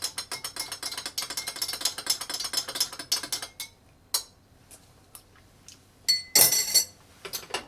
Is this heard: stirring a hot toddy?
yes